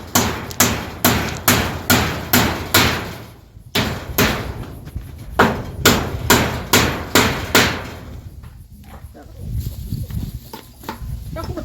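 Sharp hammer blows strike in quick, regular bursts, several in a row, pause, then resume before fading into voices talking nearby.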